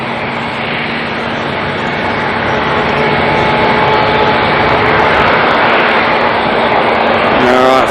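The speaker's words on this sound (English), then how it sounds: "finally the noisy Dashi is going to make its way onto the runway" A noisy Dash 8 turboprop taxis toward the runway at Auckland Airport, bound for Nelson, its steady droning propeller whine loud and close throughout, holding a constant pitch with a faint tonal hum.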